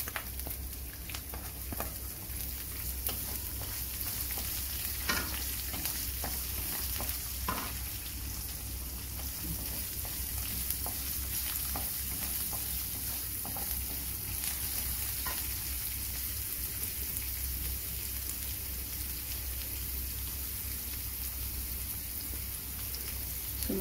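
Finely chopped onion with chana and moong dal fries in a pan, a dense continuous sizzle like light rain, steady and close, with occasional scraping stirs and no talking.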